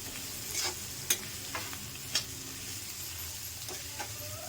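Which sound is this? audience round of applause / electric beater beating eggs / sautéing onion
sautéing onion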